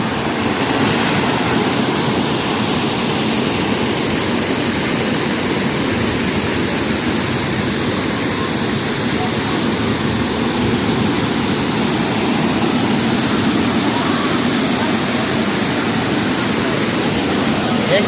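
Vanlakshmi waterfall near Vangni, outside Mumbai, in monsoon season: a loud, steady roar of falling water, close and unbroken throughout, with no pauses.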